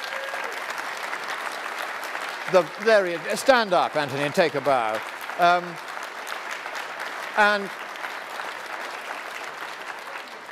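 Audience applause fills a conference keynote hall, steady clapping running throughout beneath someone speaking loudly over it, with the crowd noise rising as he calls out.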